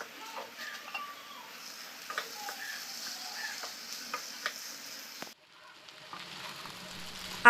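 Washed poha is stirred into masala in a hot pan, a soft sizzle with scraping spoon strokes close by, then a short pause before faint clatter resumes.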